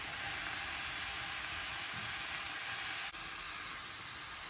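Steady hiss and sizzle of vegetables and chopped spinach frying in a pan, constant and fairly quiet, with no voices.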